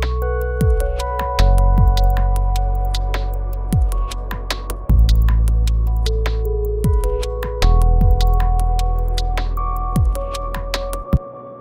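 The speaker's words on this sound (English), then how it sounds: "tight, techie electronic drums to give that sort of electronic cinematic edge to things." Tight, snappy electronic drums from the Playbeat plugin play a steady groove over a chill TV theme intro bed, with punchy low kicks and crisp clicky hits repeating through to the end.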